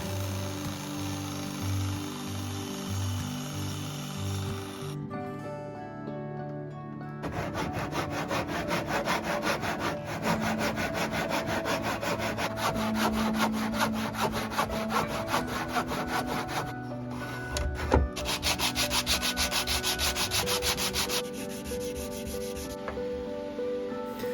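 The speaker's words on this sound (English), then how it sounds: "After cutting to size and sanding" Repeated back-and-forth strokes of a hand saw cutting a piece of sycamore wood, then steady rasping of sanding, close and continuous with no voices.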